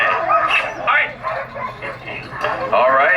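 A pack of sled dogs before a run barks, yips and whines excitedly in overlapping bursts, fairly close and loud, as someone talks over the din.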